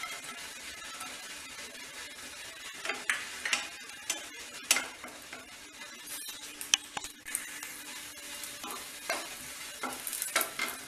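Cashews and raisins roasting in ghee in a pan give a soft, steady sizzle with scattered stirring scrapes and small clicks, close and fairly quiet, no voices.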